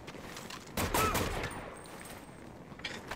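Faint, distant gunfire from the Medal of Honor: Vanguard video game, a short rolling burst of shots over low background rumble, quiet throughout.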